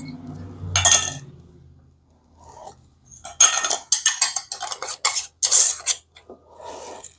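Metal ring lids are screwed finger-tight onto Ball glass canning jars in a kitchen, giving a series of close scraping threads and light clinks in short bursts. There are brief quiet gaps between the bursts.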